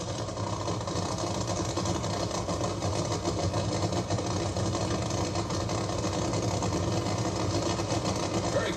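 A 1976 Dodge funny car drag racing engine at the NHRA Gatornationals, a sustained loud mechanical roar holding steady throughout without pause.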